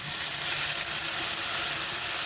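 Marinated pointed gourd hits very hot oil spiced with cumin and dried chilli, giving a loud, steady, dense sizzle that hisses without a break for the whole moment, close up with no talk.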